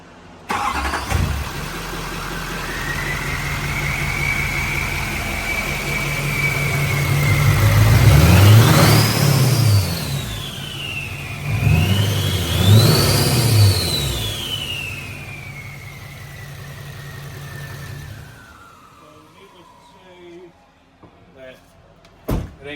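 A Duramax LML diesel truck running without its intake pipe idles, then revs twice with a rising turbo whistle and deep roar before settling and shutting down, with a door-like thud near the end.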